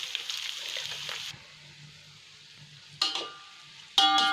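Rice tipped into a pan over a medium flame while making zarda, Indian sweet rice: a steady frying sizzle, then two sharp bright pours or clatters of grains landing near the end, close and fairly loud with no talk.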